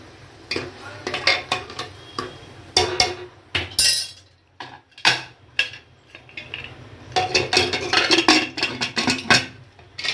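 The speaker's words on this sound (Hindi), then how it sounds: "देखिए पिसा हुआ गरम मसाला डाल करके इसको थोड़ा चम्मच से चला देती हूँ।" A spoon stirs ground garam masala into spicy yam (suran) curry in a metal pot, giving repeated clinks and scrapes in irregular bursts, close and fairly loud, with no talking.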